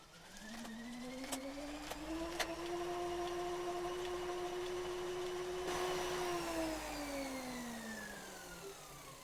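A CycleOps Magnus smart trainer's flywheel winds through a spin-down calibration: a tonal whine rises, holds steady for several seconds, then glides downward as the wheel slows, with a low mechanical hum beneath and a few faint clicks.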